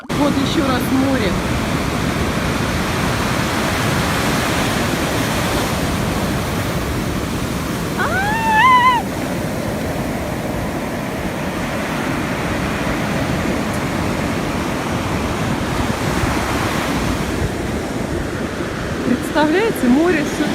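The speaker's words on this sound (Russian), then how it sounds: "Вот еще раз море" Sea waves wash onto the shore in a constant loud broadband roar, close by and unbroken for twenty seconds, with a brief faint voice-like sound partway through.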